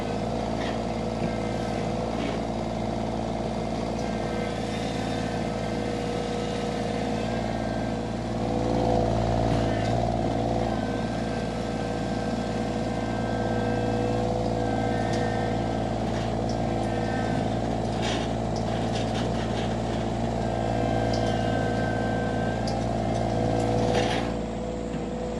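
Derette XC1100 machine engine held at about 2300 RPM, a steady, continuous mechanical drone that swells slightly midway and stays even for the whole stretch, fairly close and loud.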